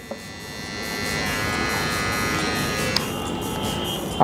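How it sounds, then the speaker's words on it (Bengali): A Kemei KM-7055 rechargeable trimmer runs with a steady electric buzz that swells after switching on and holds evenly, with small clicks as it is handled. "পাওয়ার বাটনটা উপর দিকে টান দিলেই কিন্তু ট্রিমারটি চালু হয়ে যাবে।"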